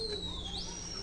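Pigeons of the Madrasi pair breed coo softly in a loft in Delhi, a faint, close bird call rising briefly, with no one speaking.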